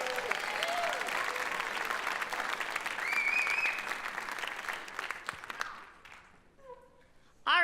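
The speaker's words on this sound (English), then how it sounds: "So, give a big round of applause to our show choir crew." Audience applause for a show choir crew at a concert, dense steady clapping with cheers and a few voices mixed in, tapering off near the end.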